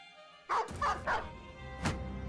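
A dog barks in the Battle Brothers video game, a quick run of three loud barks followed by one more after a pause, alone in a game scene.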